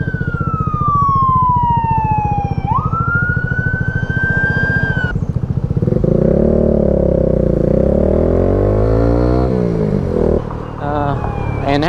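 Several emergency sirens wail and sweep loudly over steady engine rumble, one tone gliding down then rising, later overlapping warbling siren patterns close by.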